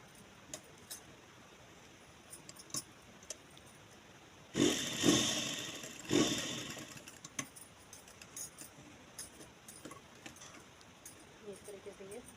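A sewing machine stitches the side seam of a baby jhabla in a boutique, whirring in two or three short, loud bursts between long stretches of quiet room noise and faint handling clicks.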